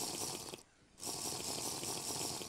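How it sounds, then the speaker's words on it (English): Watery, bubbling gulp of a night vision potion being drunk in Minecraft, steady and close for most of the stretch, broken by a short quiet gap. "Let's drink the night vision potion."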